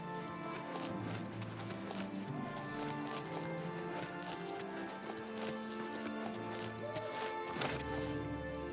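Horse hooves clip-clopping steadily during riding in the video game Oblivion Remastered, mixed with game music and a brief whinny near the end.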